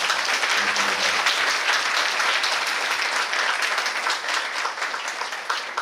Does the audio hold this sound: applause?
yes